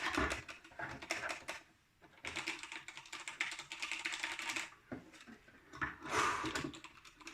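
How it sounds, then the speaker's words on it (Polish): Rapid clicky keystrokes from a Genesis Thor 300 TKL RGB mechanical keyboard, typed in dense bursts with a brief pause near the two-second mark and another just before five seconds, close and fairly loud with no talking. "Mechaniczna klawiatura. Mamy mechanika wreszcie."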